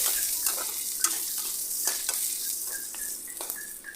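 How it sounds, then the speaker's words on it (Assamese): Onions, whole garlic and bay leaf fry in fish-frying oil while being stirred, a steady close sizzle broken by scraping stirs and light clinks, with no talking. "পিঁয়াজখিনি ভাজি যোৱালৈকে সম্পূৰ্ণ লৰাই থাকিম"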